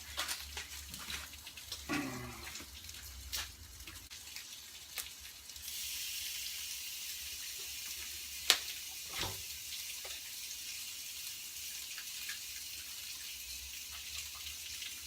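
A steak goes into an oiled cast iron pan with vegetables, set on low heat. After a few quiet knocks and clatters, a loud, steady, hissing sizzle starts partway through and continues to the end.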